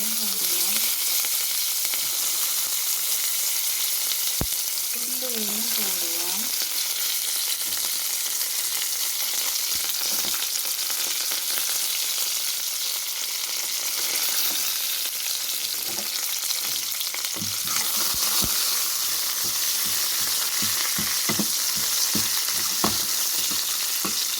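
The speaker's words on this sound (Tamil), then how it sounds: "எண்ணெய் கொதிச்சிட்டுது நான் கடுகு பெரிஞ்சு தான் போட்டுட்டேன் கடுகு பிரிஞ்சு தான் பொரியுது" Mustard seeds splutter in hot oil, a steady, bright sizzle dotted with sharp popping crackles that grow busier toward the end.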